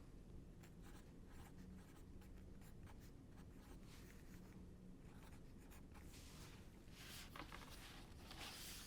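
A pencil writes on paper, a steady, soft, close scratching that runs unbroken through the whole stretch.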